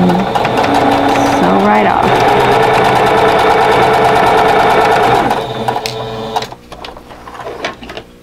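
A sewing machine runs steadily, stitching the seam of a calico puzzle quilt block, its loud, even whirr holding for about five seconds before stopping. Softer clicks and handling noises follow.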